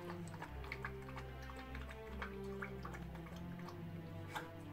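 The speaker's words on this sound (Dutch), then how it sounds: "ze is aan het water drinken" A dog lapping water from a bowl indoors, a soft, steady series of quick wet laps and drips with a low background hum.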